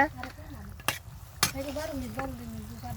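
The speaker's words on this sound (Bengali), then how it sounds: "এই যে মাছটারে ভালো করে কষে নিতেছি সব মশলা দিয়ে" Pangas fish head being sautéed with spices in a pan, soft sizzling under a spatula scraping and stirring, with two sharp clanks of metal on the pot and a faint voice in the background.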